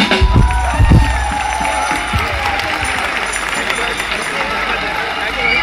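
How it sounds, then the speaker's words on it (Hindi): Loud applause and cheering from a concert audience at a live show in Kalghoda, a dense crowd roar with clapping that stays steady throughout, busiest at the start. "जोरदार तालियां"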